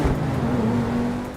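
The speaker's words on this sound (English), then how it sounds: "One thing I love about the Tempesta as well is the actual backfires from it." A Pegassi Tempesta widebody sports car in GTA 5 roars close by, its engine droning steadily with a faint exhaust pop at the start before the sound slowly fades.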